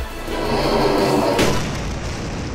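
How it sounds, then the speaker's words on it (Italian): A loud, deep explosion booms out and its rumble decays into a hissy, fading tail, heard alone in a short comedic clip. "con quella esplosione in faccia non si è fatto male"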